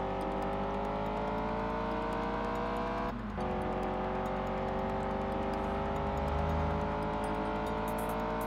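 Engine of a Lamborghini in the PS2 racing game Test Drive Unlimited, a steady loud drone climbing toward 100 mph with rising harmonics and a brief dip around three seconds, no voices over it.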